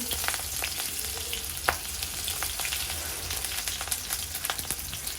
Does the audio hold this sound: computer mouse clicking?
no